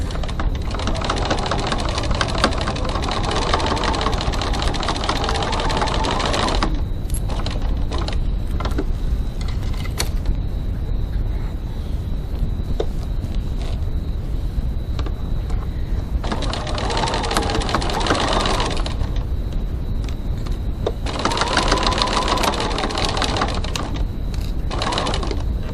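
A sewing machine runs in fast, even bursts while stitching a recessed zipper seam on a crossbody bag at 2.4 stitch length, loud and close, with pauses between runs and a long quieter stretch in the middle.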